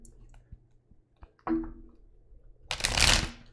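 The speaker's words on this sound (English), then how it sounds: "Make sure I shuffle these cards good" A few soft clicks, then a short riffle, and finally a loud papery flutter of cards being shuffled close by, with no voices.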